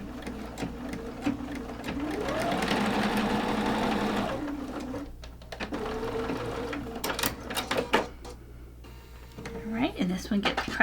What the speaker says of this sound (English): And then you take fabric Q and sew that to the other side of your chimney.